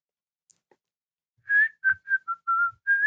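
A person whistles a tune, likely a song about feeling warm and bright, in a clear close melodic line of short phrases after a near-silent start, with no talking.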